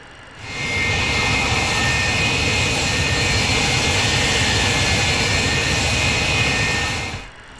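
In the MSFS 2024 simulator, engine number 1 of a Delta MD-88 jet starts with a loud, steady rushing roar and a high whine that swells within a second, holds evenly, then fades out at the end.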